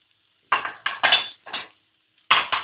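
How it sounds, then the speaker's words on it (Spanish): Dishes and a bowl clink in a kitchen while preparing an onion tortilla, in three or four short bursts of clattering ceramic, close and fairly loud, with brief silences between them. "vamos a sacar un bol"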